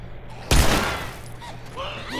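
A single loud gunshot burst fired in the video game The Last of Us, a sharp close blast that decays over about a second, with faint game sounds trailing after it.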